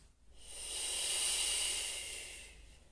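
One long, deep breath taken during a stretching exercise: a slow, airy exhalation of about two seconds that swells and fades, close and fairly soft, with no talking.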